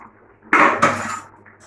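A metal lid is lifted off a pot of simmering meat curry on a gas stove, two quick clattering scrapes of metal against the rim, close and fairly loud, in a quiet kitchen.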